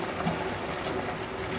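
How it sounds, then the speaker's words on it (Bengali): Hot water pours into mung dal curry cooking in a pan, a faint, steady rushing splash with no talking. "এজন্য আমি একটু গরম পানি দিলাম"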